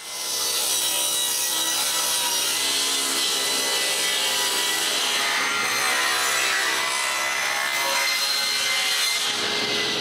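Saw ripping a board lengthwise into four pieces, a steady, loud, continuous cutting rasp close by, running for several seconds before tapering off at the end.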